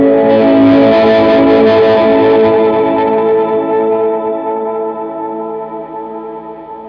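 Electric guitar through a reverb pedal on its shimmer setting at fully wet mix, a sustained chord blooming into a dense, octave-shimmering wash that slowly decays over several seconds, loud and alone.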